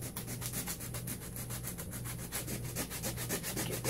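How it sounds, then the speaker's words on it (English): Sandpaper is rubbed steadily across a varnished robot surface, a close, continuous back-and-forth scratching with an even rhythm and no voices. "get a little sandpaper here."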